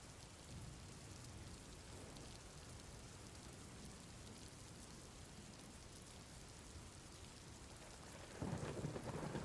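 A thunderstorm with rain, a steady hiss of rainfall on surfaces with low rumbling beneath, swelling into a louder burst near the end, no voices.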